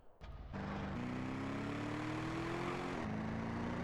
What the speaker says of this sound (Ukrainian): Моторчик, моторчик,